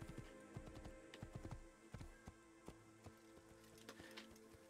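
Horse hooves gallop in Assassin's Creed, a steady run of clip-clop strikes with some heavier thuds, fairly close and alone without talk.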